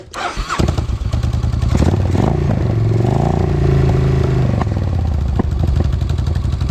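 An old motorcycle running with no air boxes connected and a lean mixture: the engine catches and settles into a loud, steady, close-up idle with clattery mechanical rattle, no talking.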